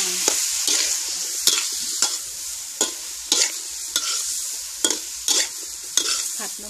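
Pork belly and asparagus fry in a wok under a constant hiss, with a spatula scraping and clanking against the pan in a steady rhythm, about every half second to second.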